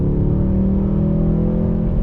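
A 2020 Mercedes-AMG GT 63 S in race mode holds a loud, close engine note, a steady deep droning rev that barely changes over two seconds, with no voices.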